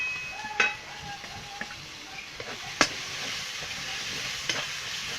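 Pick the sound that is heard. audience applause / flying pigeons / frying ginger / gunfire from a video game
frying ginger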